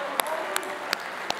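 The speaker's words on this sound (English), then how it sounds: "give him a clap" A few scattered hand claps at a college football awards banquet, four sharp isolated claps spaced evenly over a low room murmur rather than full applause.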